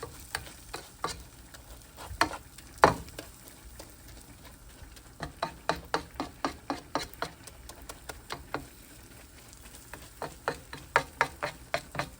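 Barbecue chicken browning in a pan gives off a steady low sizzle, broken by frequent sharp ticks and pops that come in clusters, with a few louder crackles early on and no voices.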